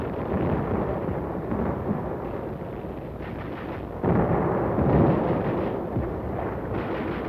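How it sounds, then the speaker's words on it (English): Heavy naval bombardment at Inchon in 1952 archival film rolls on as continuous booming gunfire and explosions, dense and sustained, swelling louder around the middle with no pauses between blasts. "the bombardment was lifted at Walmy, but continued at Inchon"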